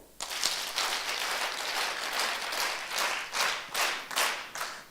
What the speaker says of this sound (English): We're going to give her 10 claps.